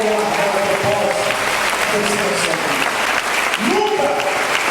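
A church congregation claps together in steady, dense applause while a preacher's voice carries over it.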